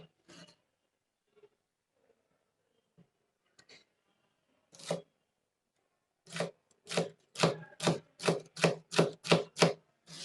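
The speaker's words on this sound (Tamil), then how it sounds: "இதை மாதிரி ஒரு 10-15 பீன்ஸ் ஒன்றா எடுத்து சேர்த்து வச்சு பொடி பொடியாக கட் பண்ணிக்கலாம்" A knife chops a bundle of green beans finely on a board. A few scattered taps open, then a steady run of about ten crisp, evenly spaced chops comes close and clear, with no talking.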